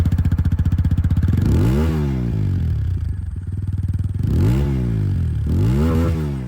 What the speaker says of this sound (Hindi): जो अपाचे की साउंड है वो भी मैं आप लोगों को सुना दूँ